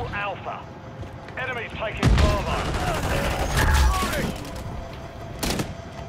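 Battle rifle gunfire in the shooter game Call of Duty MW3 cracks in bursts of sharp shots with booming impacts, heaviest midway and again near the end, mixed with game voices and chatter.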